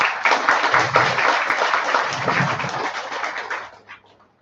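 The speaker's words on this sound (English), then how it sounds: "Can you give a round of applause for that?" An audience at a spiritual talk session claps together in a dense, sustained burst of applause that runs several seconds before thinning out and stopping.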